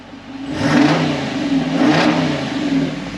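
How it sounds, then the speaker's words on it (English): A Jeep engine revs up twice in quick succession, a throaty mid-pitched roar swelling and easing back, close by with no talking. "Sounds like a regular Jeep."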